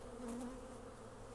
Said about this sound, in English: One reason there's so many bees flying around is because we're standing in front of their hive